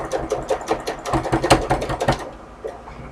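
Sewing machine with a 90/14 needle stitching through several folded layers of quilting fabric to make straps, a close, rapid run of mechanical needle clatter with short pauses and bursts, fading to quieter ticks at the end.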